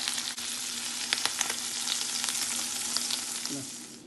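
Sardines crisping in a hot pan, Goan-style fry, give a steady close sizzle with scattered sharp pops and crackles throughout, with no talking.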